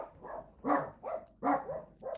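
Pet dogs bark inside a house in a run of repeated rhythmic woofs, moderately close but fairly quiet, with no talking over them.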